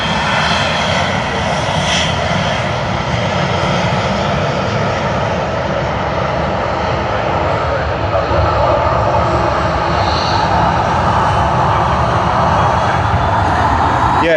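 A jet airliner taxis at Sydney Airport to runway 16, its engines giving a steady, loud, broadband roar that holds unchanged throughout with no pauses.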